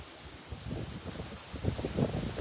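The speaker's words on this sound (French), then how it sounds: "J'espère qu'on n'entend pas trop le vent." Outdoor wind buffets the microphone in low, uneven gusts that swell and rumble throughout, with no talking.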